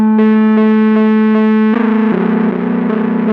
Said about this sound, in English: This is a bark sound effect.